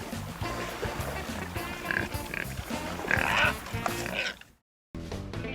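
Swimming pigs at Staniel Cay, Bahamas, grunt and oink near a boat in a loud, continuous stretch of snorting, broken by a short silent gap before the grunting resumes.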